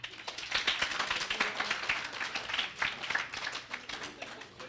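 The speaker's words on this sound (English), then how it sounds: "A round of applause" An audience at an author talk in the Chesapeake Author Series claps for several seconds, a steady spread of hand claps at moderate level with no voices over it.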